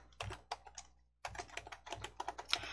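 A file name is typed on a computer keyboard in close, rapid bursts of key clicks, with a short pause in the middle before the typing resumes.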